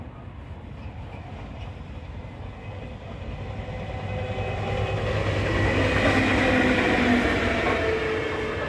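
Freight train 6U34 approaching around a corner at Colton North Junction, a steady rail rumble that swells louder as it draws near, with faint wheel squeal tones rising toward the end.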